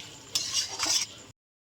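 Ground spices for egg curry being stirred and fried in a pan, heard as a short burst of close scraping and sizzling with two brighter scrapes before it cuts off.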